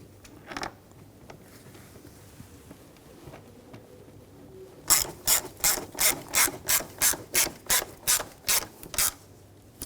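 Ratchet tightening bolts on the engine of a 2007–2013 BMW X5 3.0L inline-six during an ignition coil job: about a dozen crisp, evenly spaced clicks in a quick rhythm after a quiet stretch, close and alone.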